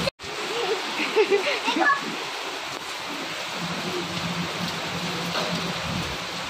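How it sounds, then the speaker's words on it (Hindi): Heavy rain pours outside during a downpour in Pune, a constant loud wash of hissing water. Voices sound briefly near the start over the rain. "बाहर खूब जोरों की बारिश हो रही है"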